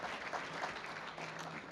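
Applause for a chamber of commerce's board members at a small business awards event, a steady wash of clapping from the crowd that holds at a fairly even level for a couple of seconds.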